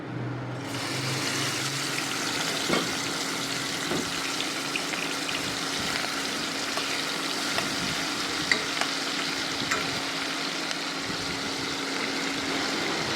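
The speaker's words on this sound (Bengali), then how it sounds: "এবার আমি চিংড়ি মাছগুলোকে তেলের মধ্যে ছেড়ে দিচ্ছি।" Prawns drop into hot oil and fry with a loud, continuous sizzle and crackle, a sharp burst at the start settling into a steady hiss with occasional pops.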